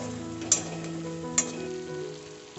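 A spiced onion masala seasoned with salt is stirred in a frying pan with a steady close sizzle, and a spoon taps the pan twice, sharp and brief.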